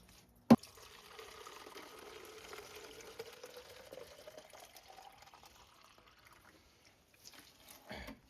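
Coolant pours into a car radiator with the bleeder valve open, a soft continuous liquid glug and trickle with a slowly rising fill tone, preceded by a sharp knock and ending with a brief clatter.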